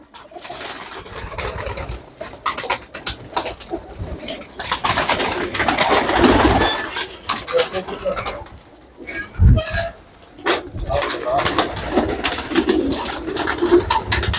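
Teddy pigeons cooing in a loft in Islamabad, soft low coos and rustling scattered amid background noise, with occasional talk.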